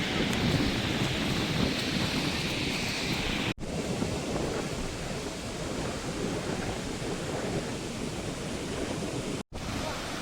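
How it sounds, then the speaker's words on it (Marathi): Steady, loud rush of river water pouring over the Andhali dam on the Manganga river, a broad continuous roar without pause, close by. "हे अशा प्रकारे धरणावरून पाणी वाहत आहे"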